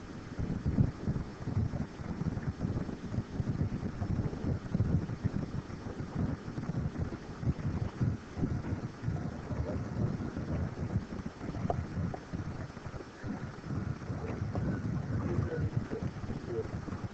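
Wind blowing from the west at about 8 knots, heard as a continuous low buffeting rumble on the microphone, close and steady throughout with no clear pauses.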